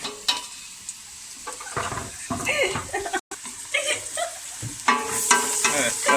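Chopped potatoes, carrots and onions stirred in a pot for vegetable soup, with scraping utensil strokes and a light sizzle, under a voice.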